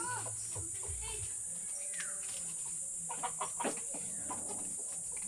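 Chickens cluck intermittently amid a steady high insect drone, with people chatting nearby, in Lopez, Quezon province, Philippines.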